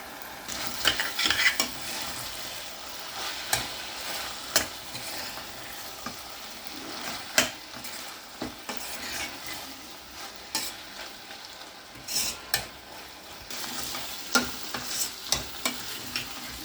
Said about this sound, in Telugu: పోపు బాగా వేగితేనే బాగుంటుంది